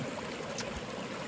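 Boulder Creek, a mountain stream on the Arizona Trail, flowing with a steady broadband rush and gurgle, fairly close and continuous, with no voices.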